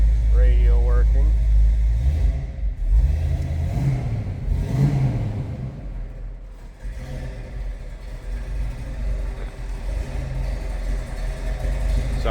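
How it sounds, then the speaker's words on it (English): Engine of a 1970 Ford Mustang Mach 1 Fastback, R-Code, with a lumpy cam, revving in a few blips then settling to a low, uneven idle, with someone talking over it. "Sounds like we got a little cam."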